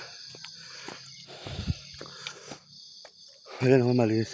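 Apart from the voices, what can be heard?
crickets chirping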